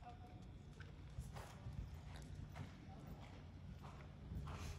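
A horse canters in an arena during a riding clinic, its hooves thudding in a steady rolling rhythm at moderate distance, with a faint voice talking over it.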